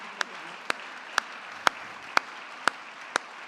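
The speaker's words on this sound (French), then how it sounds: "On peut l'applaudir." An audience at a medical award ceremony applauds a winner, heard as slow, evenly spaced claps about twice a second over a faint hiss, with no voices.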